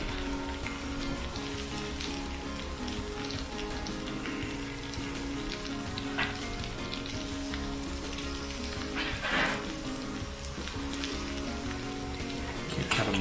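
Onions frying in a pan give off a steady, close sizzle with a dense hiss that goes on throughout, broken by a few louder crackles and pops.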